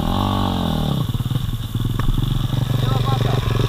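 Motorcycle engine with a clogged carburettor, held at about one-third throttle, running unevenly and cutting out in stuttering bursts, close and loud, with someone talking over it.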